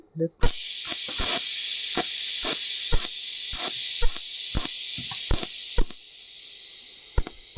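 TIG welding on aluminium with filler wire, the torch set to around 130: a steady, loud hissing arc runs for about seven seconds, cut by regular sharp clicks, with no talking.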